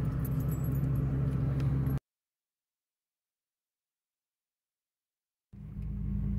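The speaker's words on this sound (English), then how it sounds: "we have been driving forever on this beautiful dirt road." A car on a long dirt road in Tennessee gives a steady low cabin rumble with faint rattles. It cuts to silence for a few seconds before the rumble returns.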